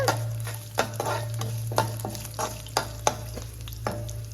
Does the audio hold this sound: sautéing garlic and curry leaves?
yes